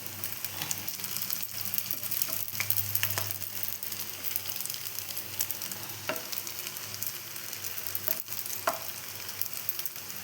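Two pieces of leftover dosa batter shaped as jalebi fry in hot oil, giving a steady, dense sizzle that fills the whole stretch, with a few brief clinks and bubbling pops close by.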